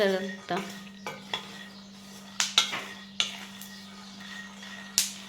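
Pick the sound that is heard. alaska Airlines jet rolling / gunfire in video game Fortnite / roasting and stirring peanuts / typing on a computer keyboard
roasting and stirring peanuts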